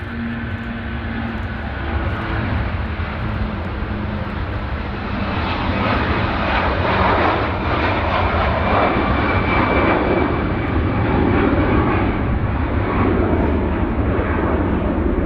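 Passenger jet airliner taxiing at Manchester Airport, a loud steady engine roar and whine that fills the whole stretch with no talking.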